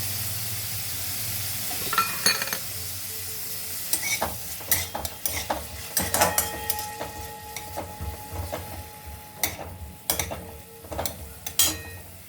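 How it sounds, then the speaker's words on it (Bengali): Coconut pieces fry in ghee with a soft continuous sizzle, broken by sharp scraping clinks of a spatula stirring against the pan at irregular intervals. "এই নারকেলটা এই ঘিয়ের মধ্যে দিয়ে দেবো।"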